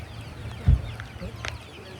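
At an outdoor animal swap in Elk Mound, a chicken gives a short cluck amid faint background chatter and scattered noises, one brief low burst standing out near the middle.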